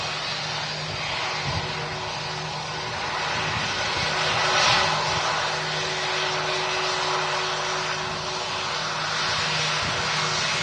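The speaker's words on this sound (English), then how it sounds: "We've got this Singapore Airbus A350 as we await the Virgin arrival." A Singapore Airlines Airbus A350 taxiing toward runway 23 left, a steady distant jet engine whine and rumble that swells slightly midway and holds at a constant level.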